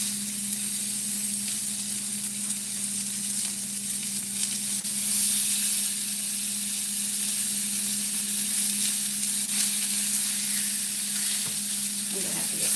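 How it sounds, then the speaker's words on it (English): Chuck eye steaks searing in a very hot pan, a loud continuous hissing sizzle with a constant low hum underneath, steady across the whole stretch. "I'm gonna have to get 4 steaks in here. That's searing."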